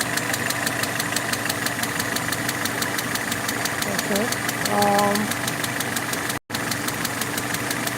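A Peugeot 307 with the EW10J4 engine and manual gearbox idling roughly, a steady close mechanical drone with rhythmic knocking pulses and a brief dropout, while someone says a short word.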